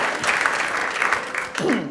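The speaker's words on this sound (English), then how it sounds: "So let's give them an extra round of applause for this one" A short burst of clapping from a symposium audience, fairly close and dense, with a voice cutting in briefly over it near the end.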